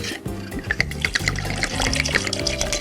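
Water runs steadily into a drink made with two shots of vodka, a continuous close trickle and splash lasting a few seconds with no one speaking.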